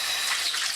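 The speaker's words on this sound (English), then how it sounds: "We're filling this dirty bowl with some water" Tap water pours steadily into a dirty bowl in a kitchen, a close, continuous hissing gush with no break.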